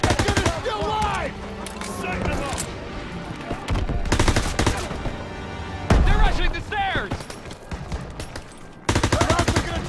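Call of Duty WWII battle gunfire, with dense bursts of automatic fire and shots in several loud clusters, mixed with shouting voices and game effects, broken by short quieter gaps.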